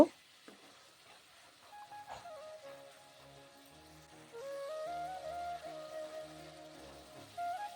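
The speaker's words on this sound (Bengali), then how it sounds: "এখানে এক চামচ পরিমাণ জিরে মরিচের গুঁড়ো দিলাম দিয়ে ভালোভাবে কষিয়ে নেব" Cumin and chili powder spice paste frying in a pan for egg korma, a soft steady sizzle with faint scattered stirring clinks, quiet and close, building slightly in the second half alongside faint tonal music.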